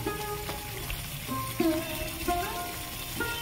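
Ground cumin, coriander, chilli powder and salt frying in a pan for egg korma, a soft, moderately close sizzle with a few stirring scrapes, no voices.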